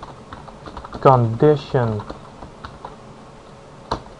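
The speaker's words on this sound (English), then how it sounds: "just read what I'm typing" Quick keyboard clatter at a computer while writing PHP code, the key taps coming in short bursts around a man's spoken word.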